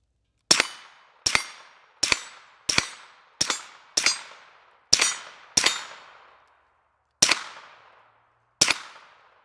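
Sharp, ringing impacts of Flux Raider foam blaster darts hitting metal flip targets, ten distinct clangs at a steady, slightly irregular pace, each decaying briefly, with no talk.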